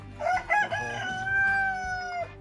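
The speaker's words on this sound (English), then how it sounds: "Some chickens up in here." A rooster crows loudly and close, a long drawn-out call, with other chickens clucking around it, at Jerome ghost town.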